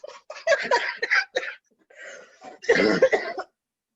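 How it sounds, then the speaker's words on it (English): A person coughs in a rough, rapid burst of several hacks, pauses briefly, then lets out another harsh coughing fit up close. "you hella cough in one puff"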